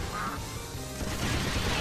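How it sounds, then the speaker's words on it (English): A rubber duck quacks in the side-scrolling shooter Jets'n'Guns, a short squeaky honk amid busy game noise and rumbling explosions, with no voice over it. "Rubber duck."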